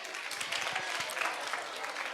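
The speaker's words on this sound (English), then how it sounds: "please give a big round of applause and appreciate the students" Audience at a school Children's Day celebration applauding students after a prize announcement, a short burst of dense, steady clapping from a crowd with no voices over it.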